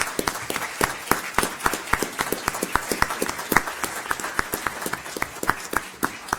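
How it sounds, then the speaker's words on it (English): Applause from an audience at a county school board meeting honoring a state champion boys team, with sharp, steady claps running throughout at moderate level. "let's give them a round of applause."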